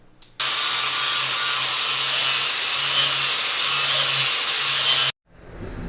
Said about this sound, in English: I'm going to do a little grind on this one.